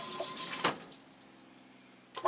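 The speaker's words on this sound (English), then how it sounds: "I'm gonna turn the water back on." Water trickles and splashes into an RV toilet bowl just after the supply is turned back on, a soft, close running flow with a couple of sharper bursts at the start and end.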